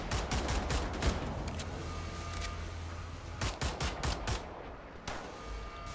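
Gunfire in the video game Wolfenstein: The New Order, with loud rapid bursts of automatic shots, a pause, then more clustered shots close up.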